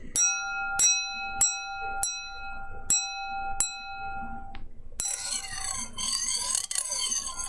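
An old wine glass tapped several times in a slow, even rhythm, each clear bell-like ring decaying, then a brighter, busier shimmering tone toward the end.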